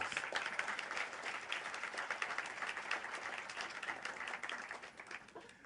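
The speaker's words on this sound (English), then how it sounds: "Let's give her another round of applause" Sustained, even applause from a breakfast event audience honoring a guest, many people clapping together at steady volume throughout with no talking over it.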